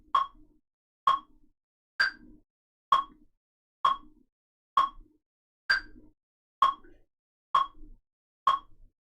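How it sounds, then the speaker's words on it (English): A metronome clicking at 65 beats per minute, ten sharp, evenly spaced ticks on their own against near silence. "We're going to play it to the click because that's what we're going to need to do in the exam."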